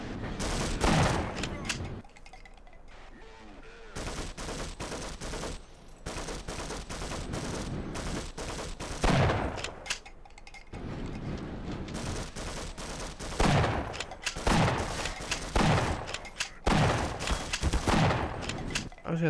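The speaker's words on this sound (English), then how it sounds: "Let's use the shotgun." Repeated shotgun blasts in the video game Half-Life, loud bursts with gaps between them amid game noise, while a player talks over the gunfire.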